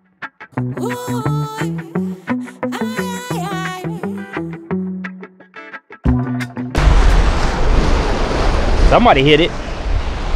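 Beach surf rolls in loud and steady during a surf fishing outing, a continuous wash of breaking waves filling the second half after a stretch of harmonic tones, with someone talking briefly over it.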